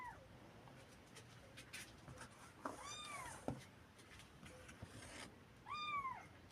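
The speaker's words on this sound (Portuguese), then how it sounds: "aqui tá uns gatos terrível" Cats meowing nearby in a room where a small DC motor fan project is being filmed, several rising and falling meows scattered through, one clear loud cry near the end over faint background noise.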